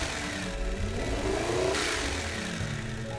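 A V12 car engine revs in the BeamNG driving game, a steady mid-pitched drone that climbs in pitch, then drops back and evens out, heard alone with no talking.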